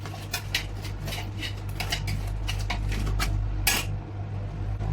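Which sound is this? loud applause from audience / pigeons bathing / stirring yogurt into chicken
stirring yogurt into chicken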